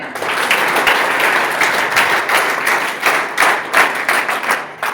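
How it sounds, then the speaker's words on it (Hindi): Enthusiastic applause from participants at a college NCC wing event for National Youth Day, a continuous dense clatter of many hands with slight surges, fairly close and loud throughout. "एक बार अपने लिए जोरदार तालियां बजा लें।"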